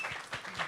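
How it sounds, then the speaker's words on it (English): Brief scattered clapping from a small audience at a $50,000 strategy game tournament grand final, a few distinct hand claps in quick succession, fairly quiet. "Let's have a round of applause to the team, to both teams."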